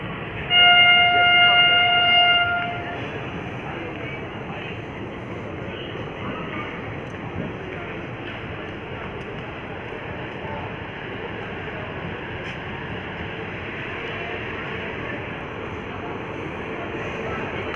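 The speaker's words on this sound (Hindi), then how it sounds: "तो फ्रेंड्स WAP-7 के साथ आती हुई हमारी अवध असम एक्सप्रेस।" Avadh Assam Express pulling in behind a WAP-7 electric locomotive: a brief horn-like tone in the opening seconds, then a steady, loud broadband rumble that continues without pause.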